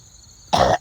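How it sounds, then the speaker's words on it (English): One short, sharp throat clearing from a person, close and loud after a quiet moment. "Clear your throat."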